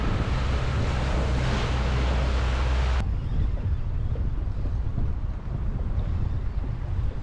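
A boat's motor runs in reverse during squid fishing, a steady low hum under loud wind and wave noise that drops away after about three seconds, leaving only the rush of wind and surf.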